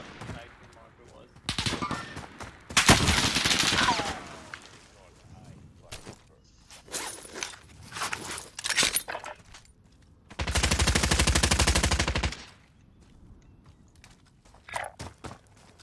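Video game gunfire in bursts: sharp single shots and rapid automatic volleys, with one long sustained burst near the end, separated by quieter gaps and some talk.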